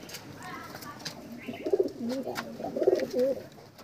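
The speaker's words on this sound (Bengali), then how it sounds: "বাকি লফটের ভিতরে পায়রা আছে" Desi pigeons cooing inside a loft, soft rolling coos that rise in the second half, close by over a quiet background hiss.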